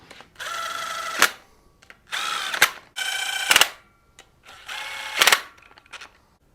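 A power tool tightens coil packs on a Gen V LT 5.3 L84 V8 engine, whirring in four short whining bursts that each end in a sharp snap, close and clear with pauses between.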